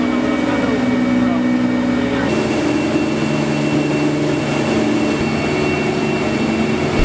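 A 34-foot river patrol boat engine drones steadily and loudly throughout, a continuous low motor roar with a slight shift in tone partway through.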